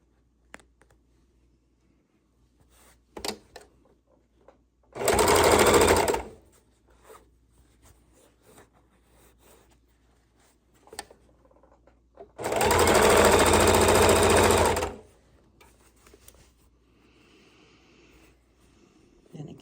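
Sewing machine stitching seams on a quilted book bag, two loud sustained bursts of rapid mechanical whirring, the second longer, separated by quiet handling clicks and fabric shuffling.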